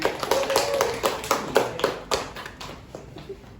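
A handful of classmates in a classroom clap together, producing a loose series of crisp hand claps that gradually thin out and soften toward the end.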